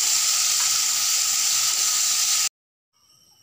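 Chopped potatoes hit hot oil in a pan and sizzle loudly and steadily for about two and a half seconds. The sound then cuts to near silence, with a faint, softer sizzle returning at the end.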